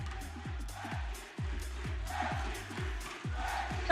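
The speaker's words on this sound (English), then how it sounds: "He set the crowd off." Crowd cheering in an esports arena at a Valorant VCT Masters match, a roaring wash of voices swelling and dipping over a steady, rhythmic thumping beat that repeats about twice per second.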